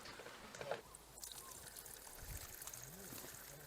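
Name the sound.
water filling from spring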